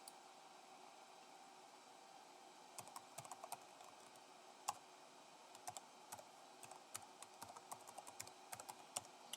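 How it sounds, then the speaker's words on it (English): Network login details being typed on a computer keyboard, heard as quiet, irregular clicking keystrokes in bursts over a faint steady fan hiss, with no talking. "Careful, make sure you type it correctly."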